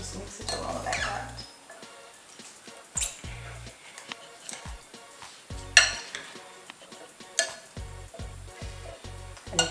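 Cilantro, local herbs and other ingredients being mixed in a bowl, with irregular clinks, taps and scrapes of utensil against dish, some soft and some sharp, spread through the moment.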